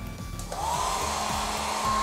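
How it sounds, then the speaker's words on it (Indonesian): A hair dryer used as an electrical load of about 2 amperes runs steadily and close by, a loud continuous whir with a faint whine shifting in pitch early on, no voices. "untuk bebannya di sini saya menggunakan beban hair dryer kurang lebih 2 ampere ya"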